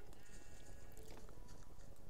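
Sheep in Minecraft bleat in short, nasal cries, a few quick calls in succession against a faint game background.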